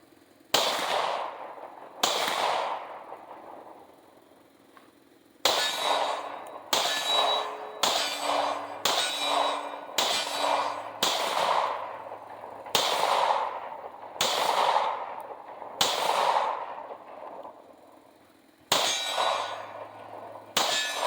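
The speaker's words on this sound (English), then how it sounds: "This is 25 yards, so this is farther than most people shoot." Smith & Wesson M&P 2.0 10mm pistol fired at a 25-yard target, a dozen loud sharp shots spaced a second or two apart with ringing decay and a brief pause midway, no talking.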